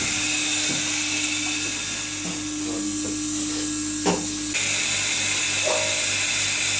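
A generic hydraulic lift's motor runs steadily in its motor room, a continuous hum with a hissing, whirring hydraulic wash and a few faint clicks, fairly close and without talk.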